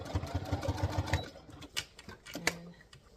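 A domestic sewing machine runs a short burst of rapid even stitching, about a second of quick needle thumps, then stops, followed by soft clicks and handling noises close by.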